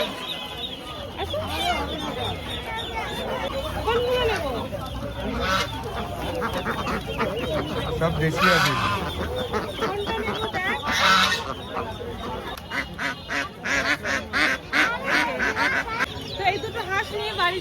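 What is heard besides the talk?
native ducks at a village market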